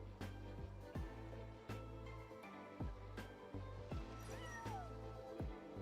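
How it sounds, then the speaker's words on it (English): A cat in a video game meows repeatedly, a series of clear, close meows and a drawn-out caterwaul over a steady low background hum, with no talk. "Cat."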